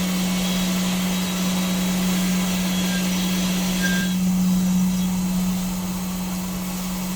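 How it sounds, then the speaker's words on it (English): A CNC machine cuts threaded holes in an aluminum part, a steady loud mechanical hum with a constant low drone and a faint high whine that shifts briefly midway, continuous with no talk. "The machine is currently processing the threaded holes of the parts."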